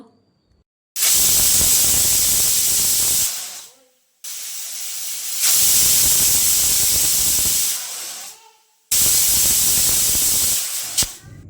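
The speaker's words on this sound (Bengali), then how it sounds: "পরপর আমি তিনটে সিটি দিয়ে নিলাম কুকারটাকে" Pressure cooker on a gas stove whistles three times in a row, each a loud, sustained hissing blast of steam lasting a couple of seconds, separated by short quiet gaps.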